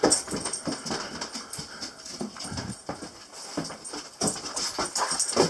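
Dogs whimpering and moving about indoors in an off-grid house, with soft whines mixed with scrabbling and clicking of paws on the floor, close and fairly loud throughout, no speech.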